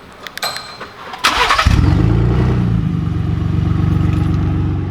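A 2020 Ford Raptor with an X pipe exhaust and the resonator removed cranks and fires up, a brief starter whir followed by a loud rumbling idle that settles steadily, heard close up.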